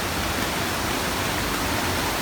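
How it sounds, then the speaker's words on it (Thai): A stream and waterfall beside a guesthouse in Mae Kampong, Chiang Mai, rush as a steady, loud, unbroken wash of water with no other sounds. "นี่มีเสียงน้ำตกไหลตลอดเลยค่ะ"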